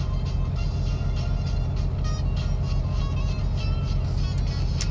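A logging truck's wheels spin on a slope tilted to the right, giving a steady, loud engine drone and churning tire noise that stays constant throughout, with no talking.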